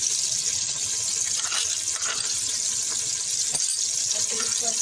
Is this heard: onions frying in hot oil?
yes